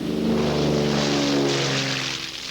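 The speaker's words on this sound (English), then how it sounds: "There are water bombers from every part of the province and helicopters with water buckets." Propeller water bombers and helicopters flying over a forest fire in the province, a steady droning engine roar that holds loud throughout without a break.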